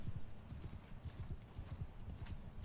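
Cavalry horses gallop across the field in a Sturgia campaign video game battle, a dense, steady drumming of many hooves heard fairly faint and continuous throughout.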